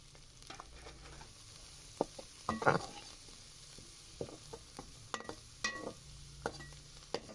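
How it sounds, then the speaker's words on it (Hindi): Shredded cabbage and finely chopped carrot frying in a pan, a soft steady sizzle with scattered scraping clicks as a utensil stirs through them, moderately near and fairly quiet. "बंद गोभी और गाजर को अच्छी तरह से हमने भून लिया है"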